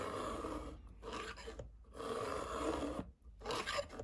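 Round file strokes sharpening chainsaw chain cutters held in a vise, a series of soft rasping scrapes in a steady back-and-forth rhythm with short pauses between strokes, close and fairly quiet.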